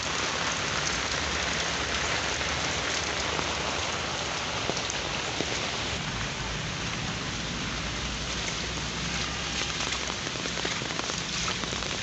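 Heavy morning rain falls steadily on surfaces, a dense, even hiss of countless drops patters close by for the whole stretch, with no voices.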